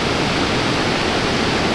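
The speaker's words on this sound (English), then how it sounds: "Just watching the water flow over the dam clears all stress." Water spilling over a dam at a state park, a steady, loud broadband rush that holds unbroken and alone the whole time.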